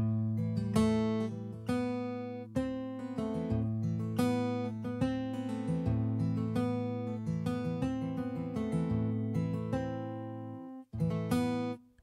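Acoustic guitar strums and picked chords from a Native Instruments Acoustic Sunburst virtual instrument play a steady rhythmic pattern, clear and close, with a brief pause near the end.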